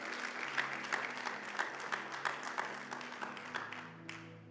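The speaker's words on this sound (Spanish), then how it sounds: "Fuerte ese aplauso a Él." A church congregation applauds during a worship service: a steady wash of many hands clapping with regular accented beats, moderately distant, with a sustained tone underneath and fading near the end.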